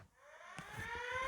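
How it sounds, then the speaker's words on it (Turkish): A rising, wavering siren tone swells steadily, fairly faint and distant, with a few low thumps underneath. "O siren sesleri geliyor dostum adamım."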